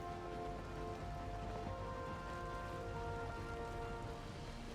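Steady rain falls throughout, a dense, even patter with no breaks, heard alone with no voices.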